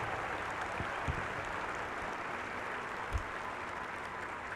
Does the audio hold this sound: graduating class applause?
yes